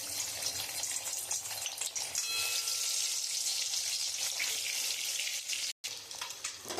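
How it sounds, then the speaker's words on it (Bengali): An egg seasoned with salt and turmeric fries in hot oil in a home kitchen, a close, steady crackling sizzle that continues throughout with only a momentary break near the end. "তেলটা গরম হয়ে গেছে, আমি ডিমটা একটু ভেজে নেব"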